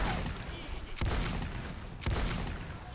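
Shotgun firing in Lost Planet 2, two heavy booming blasts about a second apart, each followed by a decaying rumble over constant background noise from the game.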